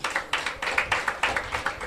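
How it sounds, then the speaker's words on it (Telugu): A church congregation claps hands together in a steady rhythm, about eight loud, even claps in under two seconds, close and with no talking. "చప్పట్లు కొట్టాలి అందరూ ఒకసారి."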